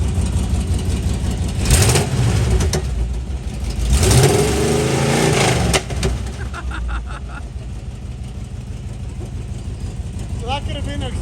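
A 1983 Oldsmobile Cutlass G-body engine revs repeatedly up close, with two strong surges of throttle rising and falling over a rumbling idle, while people talk nearby.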